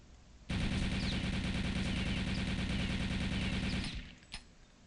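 An MP40 submachine gun in the game Return to Castle Wolfenstein fires a full magazine in one continuous, loud rapid burst of about three and a half seconds, followed by a brief click.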